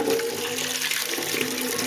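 Water runs steadily from a tap or hose into a chickens' water container, a continuous close splashing rush with no talking.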